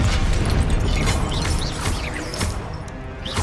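A Depulso spell is cast in the video game Hogwarts Legacy: a dense, loud burst of crashing, whooshing magic effects with rattling impacts that continue throughout.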